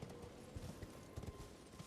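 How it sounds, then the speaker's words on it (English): Horse hooves clip-clopping in the video game Elden Ring, a quick uneven run of soft low thuds over a steady background wash, fairly faint, with no clear whinny standing out. "Better be my horse making that noise"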